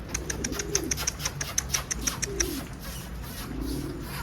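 Pigeons cooing on a rooftop, soft low coos repeating every second or two at moderate distance, over a steady background of chirping and faint ambient noise.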